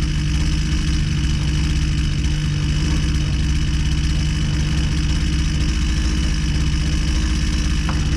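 A Husqvarna 122C string trimmer's small two-stroke engine runs steadily near 3,000 RPM while its carburetor is being leaned out, a loud, close, constant buzzing drone with a strong low hum and no voices.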